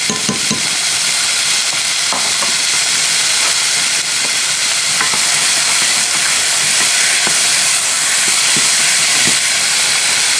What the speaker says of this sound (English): And then I'm going to throw in some garlic.